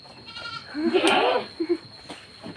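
Goats bleat at a breeding farm, one loud wavering bleat up close followed by shorter bleats, with faint voices and farm background.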